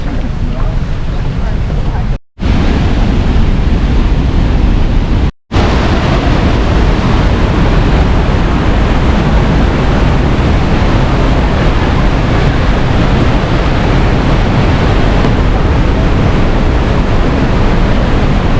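A waterfall in Lauterbrunnen, Switzerland roars loudly and continuously, mixed with gusty wind buffeting the microphone. The noise cuts out briefly twice early on.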